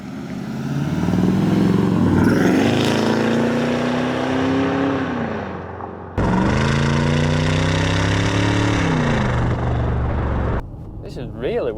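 A V8 TDI diesel engine in a left-hand-drive car pulls along a road, a loud deep rumble that rises in pitch through the gears with clear shift breaks and a steady throaty drone.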